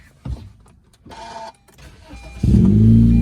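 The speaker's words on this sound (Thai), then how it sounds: "ระบบเป็นพุชสตาร์ทด้วยนะครับ ผมสตาร์ทให้ดูเลย" A used car with a push-start button starts up: a couple of clicks and a whirring starter crank, then the engine catches and settles into a loud, steady idle.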